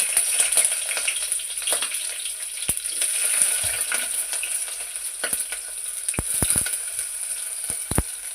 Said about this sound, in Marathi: तर आपण आता फोडणीला देऊया.